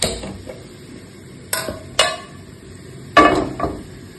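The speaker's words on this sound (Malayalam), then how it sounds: "നമ്മുടെ ചിക്കൻ ഫ്രൈ ചെയ്യാനായിട്ട് ഞാനൊരു പാൻ അടുപ്പിലേക്ക് വെക്കും" A pan set onto a stove before frying chicken gives a few sharp metallic clunks and clatters, spaced apart and fairly close, with quiet room noise between them and no talking.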